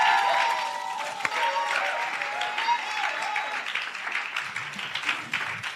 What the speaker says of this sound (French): Applaudissez et accueillons l'évêque pour nous bénir.